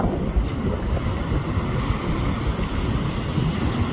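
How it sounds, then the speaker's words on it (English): North wind blowing hard at the coast by the St Lucia estuary mouth, a dense, steady roar with buffeting gusts on the microphone and surf rumbling underneath, no voices. "North wind is blowing."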